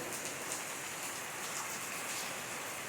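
A Sunday-morning downpour drums without pause, a thick, unbroken wash of raindrops hitting surfaces nearby, steady in loudness and free of speech.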